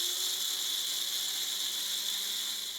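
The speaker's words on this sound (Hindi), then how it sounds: "अब मैं इसे ग्राइंडर में पीस लूँगी।" An electric kitchen grinder whirs steadily as it grinds fennel seeds, a continuous close motor drone running alone without a break.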